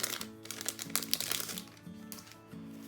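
Paper craft kit cards crinkle and rustle as they are handled, with soft crisp shuffling bursts at close range, fairly quiet, over a bed of gentle background music.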